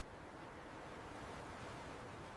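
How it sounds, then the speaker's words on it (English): Giant Pacific Ocean waves crash over the open deck of a raft, a steady, unbroken roar of surf and rushing water with no voices. "Giant waves frequently crashed completely over the open deck."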